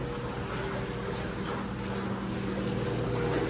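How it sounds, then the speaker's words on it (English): Steady rushing water from a produce washer sink pours continuously into a basin, a broad hiss with a low hum underneath, unchanging throughout. "what I like about this sink, the produce washer,"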